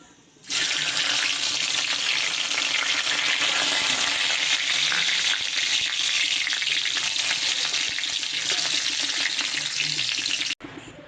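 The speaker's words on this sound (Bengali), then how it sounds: "এরপর এই গরম তেলটাতে এই গোটা গরম মশলাগুলো আমি দিয়ে দেবো।" Whole garam masala hits hot oil and ghee in a kadai, and a loud, close sizzle bursts in and holds steady for about ten seconds before cutting off abruptly.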